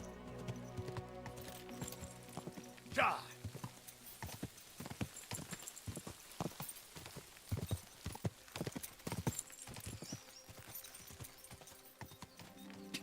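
Horse hooves clip-clop steadily along a road in the video game Kingdom Come: Deliverance II, a close, regular trotting rhythm with a brief sharper whinny-like sound early on and no talk.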